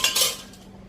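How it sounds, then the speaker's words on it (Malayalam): Dried dishes and cutlery being picked up and put away, a brief clatter of metal and plates close by, fading quickly to quiet. "ആദ്യം ചെയ്യുന്ന പണി ഉണങ്ങാൻ വെച്ചിരിക്കുന്ന പാത്രങ്ങളൊക്കെ ഒന്ന് എടുത്തിട്ട് യഥാസ്ഥാനത്ത് വയ്ക്കുകയാണ്."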